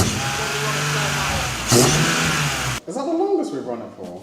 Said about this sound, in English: We've never ran it that long because the exhaust manifold's never been on, so it's so loud.